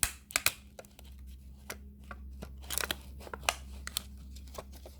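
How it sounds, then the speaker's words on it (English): Quiet, close crisp snips and crunches of scissors slicing down a crease in paper, in irregular short bursts over a low steady hum. "we'll just slice down where I creased it with the scissors"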